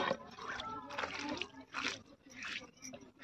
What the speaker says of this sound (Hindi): तो इस तरह मैं सिलबट्टा धुल रही हूँ